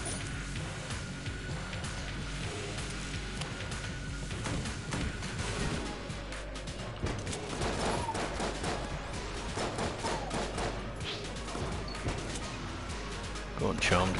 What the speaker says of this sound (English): I'm even going to shoot the charmed one while I'm at it.